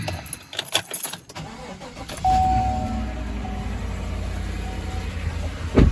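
A 2014–2018 GMC or Chevy truck engine cranks and fires after some clicks and key rattles, then settles into a steady, fairly loud warm-up idle.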